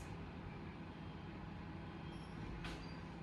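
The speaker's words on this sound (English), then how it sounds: "I have a garbage truck outside of me, outside of the house right now" A garbage truck idling and rumbling outside a house, a constant low, broad drone that fills the whole stretch, with a faint higher hiss near the end.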